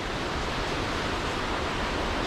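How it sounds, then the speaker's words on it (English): Reekie Linn waterfall in Scotland, with the river in spate and the water brown and churning: a continuous, broadband roar with no break or pause. "I forgot how loud like the roar from the waterfall is in the distance."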